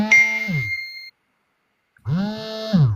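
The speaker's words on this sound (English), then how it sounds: "Somebody's telephone is ringing." Two short electronic ringtone bursts of falling melodic tones, separated by about a second of silence, clear and close.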